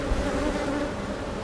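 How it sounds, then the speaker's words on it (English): Honeybees from a crowded colony whose hive has swarmed drone in a dense, steady hum, close and continuous, with no voices. "But yeah, this colony has a lot of bees."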